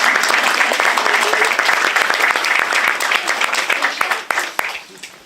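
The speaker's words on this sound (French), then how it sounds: "oui, on peut l'applaudir." Visitors at the opening of a painters' and sculptors' exhibition applaud, many hands clapping in a lively, close burst that thins into scattered individual claps as it dies away, with voices audible beneath.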